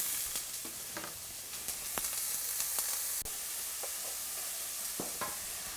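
Onions and garlic hit hot olive oil in a skillet and fry with a steady, close hiss, broken by scattered clicks and scrapes of stirring; no one talks.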